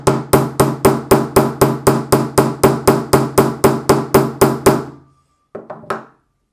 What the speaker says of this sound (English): we're going to hammer a little bit more along the length of the wire